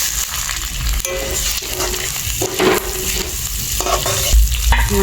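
Moong dal with chopped ginger fries and sizzles steadily in hot oil, with scraping stirring strokes and occasional clinks from the pan, close and loud throughout.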